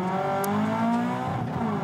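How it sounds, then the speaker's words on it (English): Toyota 86 race cars pulling away from a handbrake start in a Supercars support race at Townsville, engines droning and rising in pitch as they accelerate, heard from nearby. "Let's go back and check out exactly how it all started with Lee Holdsworth off the handbrake"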